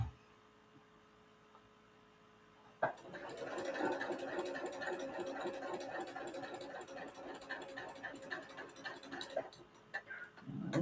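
Sewing machine back stitching at the corner of a fabric seam, running steadily for about eight seconds after a quiet start, with a fast even needle clatter and motor hum.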